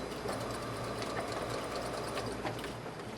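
A sewing machine locking a stitch straight across a seam of a colonial costume dress runs with a steady, fast mechanical chatter, close and alone, quiet and unbroken for a few seconds.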